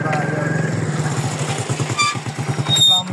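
A motorcycle engine runs close by with a steady, throbbing low rumble throughout, swelling slightly toward the end.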